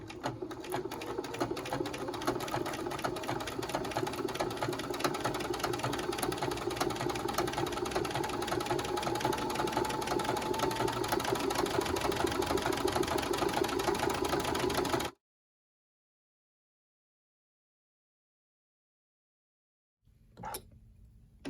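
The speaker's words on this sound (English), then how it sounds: "now I'm on this long straight edge here, and I'm just gonna get to stitching" A sewing machine stitches a long straight edge of fabric for a zippered bag, running steadily and closely for about fifteen seconds before stopping abruptly, followed by silence and a brief faint knock near the end.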